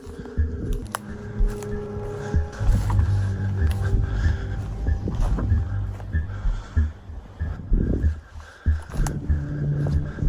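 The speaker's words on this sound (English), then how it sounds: "Truck just drove by." A truck drives by outdoors at night, a low engine rumble and rolling road noise that swells and fades over several seconds, mixed with scattered clicks and rustling nearby.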